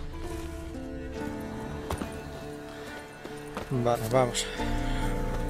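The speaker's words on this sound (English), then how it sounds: "That's his horse." Horse hooves clip-clopping in the video game The Witcher 3, with a brief run of hoofbeats under game music while someone speaks.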